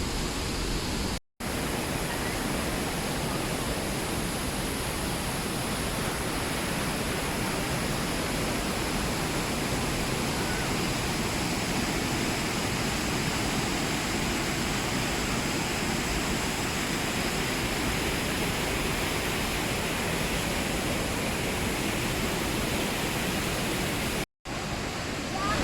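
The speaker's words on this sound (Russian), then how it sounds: "Мы пришли до последнего водопада, да? До самого большого." The largest waterfall in the Chiapas jungle of Mexico pours with a dense, unbroken roar, loud and constant from start to finish, cut by two brief dropouts.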